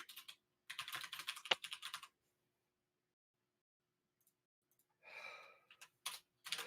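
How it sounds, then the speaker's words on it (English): Computer keyboard typing in two close bursts of quick, steady key clicks, with a breathy sigh-like noise and a few scattered clicks between them, in an otherwise quiet room. "Are you typing now?"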